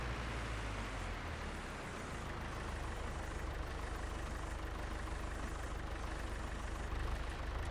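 A farm tractor idles in Farming Simulator 22, a steady low engine rumble with broadband hum that holds evenly throughout, with no talk over it.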